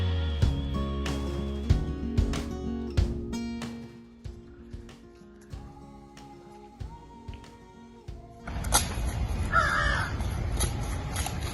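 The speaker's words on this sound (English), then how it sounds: "I think I'm hearing a bird and it's chirping" A crow caws repeatedly outdoors in a residential neighborhood, several sharp, fairly close calls spaced over the first few seconds, followed by a louder burst of broadband outdoor noise near the end.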